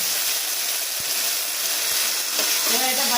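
Paneer curry spices with salt and turmeric sautéing in a pan, a steady soft sizzle and hiss with a few light stirring knocks, close and continuous throughout.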